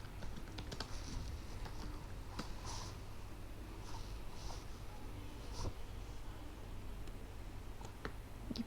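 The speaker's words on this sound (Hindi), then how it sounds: "मैं कोई कीवर्ड लिख लेती हूँ यहाँ पे" Keys on a computer keyboard are tapped in quick, irregular bursts of light clicks while a keyword is typed, close and clear over a steady background hum.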